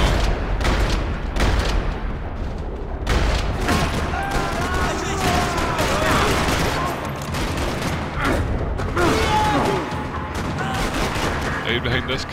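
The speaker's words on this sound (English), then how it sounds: "Another parking lot rattling with gunfire." Rapid bursts of gunfire in the video game Max Payne 3, sharp repeated shots crackling almost continuously in a parking lot, layered with booms, with some voices mixed in underneath.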